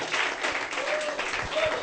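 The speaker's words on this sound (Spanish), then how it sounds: "Un fuerte aplauso al Señor." A church congregation in Lima, Peru claps together in loud, dense applause during a worship service, steady throughout with a voice faintly audible beneath.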